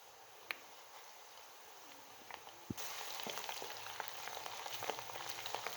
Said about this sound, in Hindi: प्याज हमारे गोल्डन ब्राउन होना शुरू हो गया, हम साथ ही लहसुन अदरक का पेस्ट डाल देंगे।